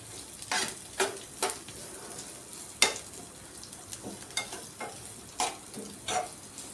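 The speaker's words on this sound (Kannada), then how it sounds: "ಇದನ್ನೀಗ ಲೋ ಫ್ಲೇಮ್ನೊಳಗೆ ಚಲೋ ಹೊತ್ನಂಗೆ ಸ್ವಲ್ಪ ಫ್ರೈ ಮಾಡ್ಕೊರೆ ಹಸಿ ವಾಸನೆ ಹೋಗಲಿ ರೀ" A finely chopped ingredient fries gently in a pan over a low flame, with a soft steady sizzle broken by repeated sharp scraping taps as it is stirred, close and without speech.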